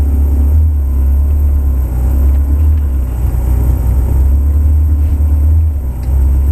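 A Ferrari 360 engine pulling away on the Silverstone circuit, heard as a heavy, steady low rumble that holds strong and even for the whole stretch without clear revving peaks.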